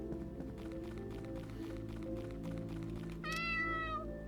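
A cat in the Nocturnal Visitors game lets out a single loud, clear meow near the end, after quiet footsteps over a low steady game hum.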